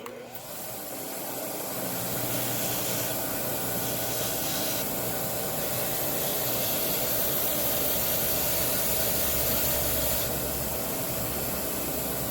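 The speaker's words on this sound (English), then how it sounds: "Now we get some buffing compound on the wheel." An old Ingersoll-Rand bench grinder spins a buffing wheel loaded with buffing compound, a steady loud whirring drone with a rushing hiss that holds for the whole stretch, no voices.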